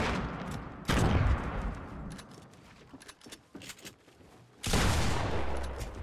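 Gunfire in Fortnite: two loud bursts of rapid shots, one early and one near the end, with scattered quieter single shots and game noise between them, no voices.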